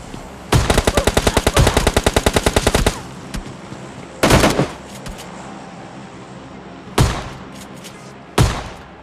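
Gunfire in the video game PUBG Lite: a rapid burst of automatic fire lasting over two seconds, then three loud single shots spaced apart, close and sharp.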